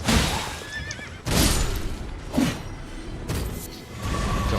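Horses in the video game Elden Ring neigh and whinny repeatedly amid combat, several loud shrill calls with thuds and swooshes between them.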